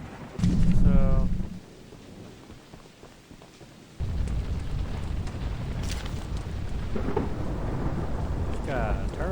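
Steady rain with rumbling thunder in the video game Choo Choo Charles: a loud thunder roll early, a quieter stretch, then heavier rain hiss carrying on, with a voice briefly over it.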